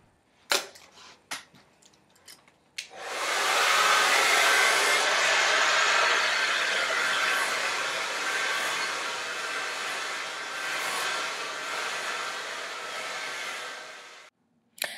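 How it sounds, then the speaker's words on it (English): A hair dryer blasts steadily for about eleven seconds while a paddle brush pre-dries hair at the scalp for lift; a few light clicks and handling sounds come before the dryer switches on, and it cuts off at the end. "Now we are going to do our pre-dry with our paddle brush to help generate lift at the scalp."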